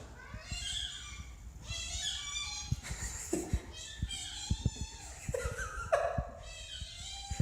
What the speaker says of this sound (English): This cat sounds exactly like a squeaky toy.